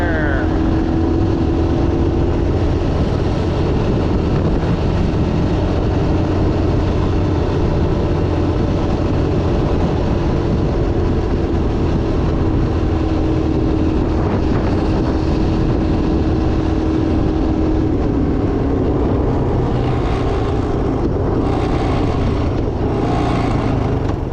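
A classic Honda Big Red, revived after years of storage, runs in fourth gear with a loud, close, steady engine drone that holds an even pitch throughout.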